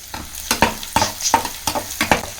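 Chopped onion sizzling in a pan, stirred with about six quick rhythmic scrapes over a steady fry.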